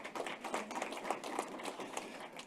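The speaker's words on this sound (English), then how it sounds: "Guys, can we give another round of applause to Sanisha" An audience at an investment event claps for a presenter, a fairly faint scatter of hands with individual claps audible and the sound thinning slightly toward the end.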